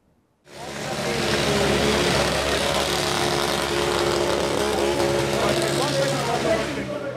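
Loud, continuous motorcycle engine roar at a town motorcycle festival in Tavullia, Italy, starts abruptly after a brief quiet and holds steady, with revving motors blending into a dense, buzzing wall of sound.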